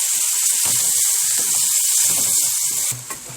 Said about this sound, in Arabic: انا دلوقتي بقى هنزل بالفول بتاعي كله كده اهو وهقلبه كويس